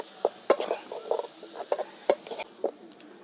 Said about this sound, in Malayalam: ഇനി ഒന്ന് നന്നായിട്ട് മറച്ചു കൊടുക്കാം.